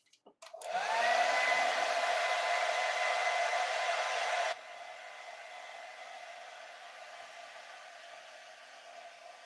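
A hair dryer runs loud and steady close by for about four seconds, then drops to a lower, quieter setting that keeps blowing to the end, with no talking.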